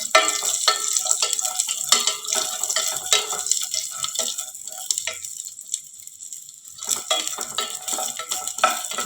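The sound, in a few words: frying ingredients in a pan for wheat payasa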